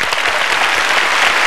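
An audience applauds inside the Teatro Massimo Bellini in Catania during a Christmas concert, a dense, loud, steady clatter of many hands clapping together.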